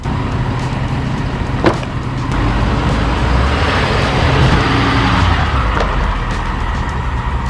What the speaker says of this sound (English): You can run over them with your truck.